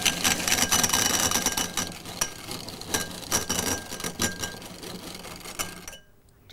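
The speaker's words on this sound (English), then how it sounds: "this doesn't have to be whisked nearly as hard as you would do for the meringue mixture" Egg white being whisked for a lemon sorbet, beaten less hard than for meringue: a steady, busy mechanical whirring and rattling that runs continuously and then cuts off at the end.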